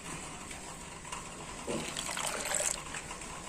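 Liquid pours into milk while a pear milkshake is being made, a soft, brief splash and trickle of about one second heard alone at low level.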